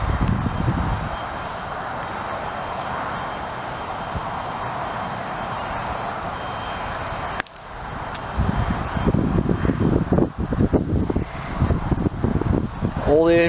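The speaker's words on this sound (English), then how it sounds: "Wind picks up." Wind outdoors, a steady broad rushing that swells and grows gustier partway through, with buffeting rumble building toward the end.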